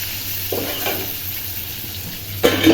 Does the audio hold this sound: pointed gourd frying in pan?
yes